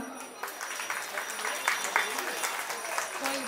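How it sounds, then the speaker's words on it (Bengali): Applause from an audience at a cultural programme after a poem recitation, a dense patter of clapping hands that holds steady for several seconds with voices mixed in. "আরো জোরে করতালি ওর প্রাপ্য"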